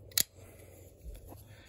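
The scissors on a Victorinox Climber pocket knife give one quick, sharp metallic snip up close, followed by a fainter click a second later in a quiet room.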